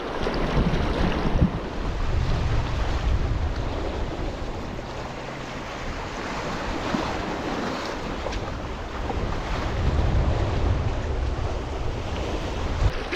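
Strong wind buffets the microphone beside open water, a constant roaring rumble with lapping waves beneath, no voices present.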